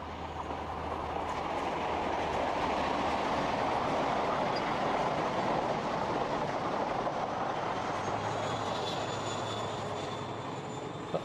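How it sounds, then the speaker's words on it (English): A diesel passenger train runs along the Dawlish seawall, a continuous broad rumble and roar at steady loudness lasting the whole stretch, with no voices. "This one is running along the seawall at Dawlish."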